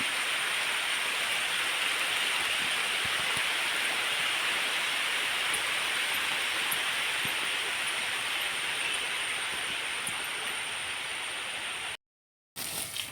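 Rain falls during a sunny rainy-season spell, a steady, dense hiss that runs unbroken for about twelve seconds, then drops out briefly near the end.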